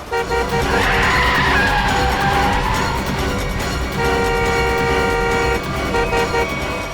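A car speeds past and skids with failing brakes in a tense college-set crime drama scene, loud engine roar and sustained tire squeal with tonal horn-like whine throughout, no talking.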